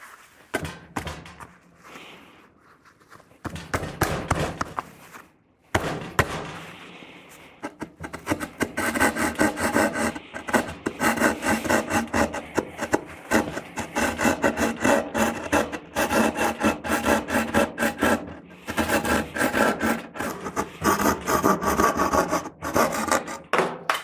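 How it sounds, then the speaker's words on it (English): A hand drywall saw cuts a circle out of drywall: close, rhythmic rasping strokes start after a few scattered scrapes and knocks, then keep up a fast back-and-forth grind to the end, with no talking. "cut the circle out using a drywall saw. We're going to do that in the drywall first"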